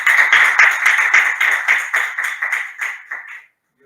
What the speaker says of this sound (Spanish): Un último aplauso, ¿no?